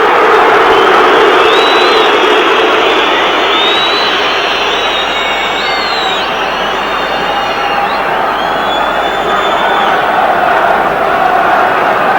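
Loud, steady roar of a football stadium crowd at a 1994 Premier League match between Sheffield Wednesday and Tottenham Hotspur, home and Spurs fans cheering and chanting continuously with a few whistles rising above the din, no talk.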